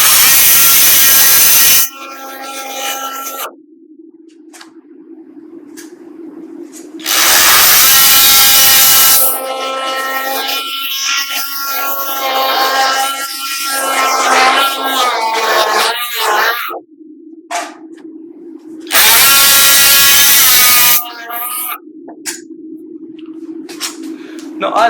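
Powered surgical saw cutting through a Sawbones model humeral head during a reverse shoulder replacement practice, giving several loud sustained buzzing bursts separated by stretches of talk.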